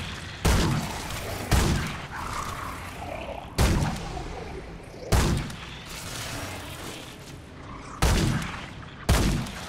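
Heavy sniper shots boom out from enemies in Remnant II, six loud cracks spaced a second or two apart over a rumbling battle backdrop.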